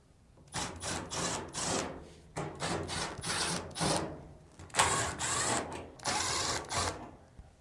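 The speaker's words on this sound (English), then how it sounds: "Now, remove the 4 screws on the front drum assembly." Screws being backed out of the front drum assembly of a Samsung dryer, heard as repeated short bursts of whirring driver noise and rattling, close and fairly quiet, with brief pauses between runs.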